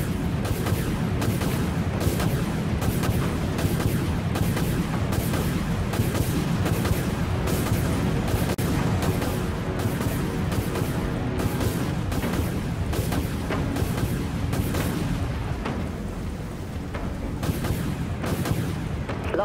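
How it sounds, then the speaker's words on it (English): Missile silos firing volleys in the naval combat game Dreadnought, a dense, loud barrage of repeated booms and blasts rolling on for nearly twenty seconds, tapering off slightly near the end. "Missiles locked on target. All silos launch missiles."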